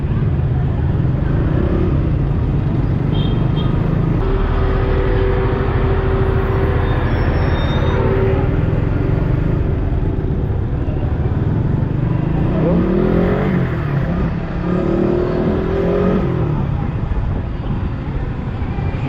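A motorcycle engine hums steadily while riding through busy weekday town traffic, with other vehicles droning and revving close around it and someone talking over the noise.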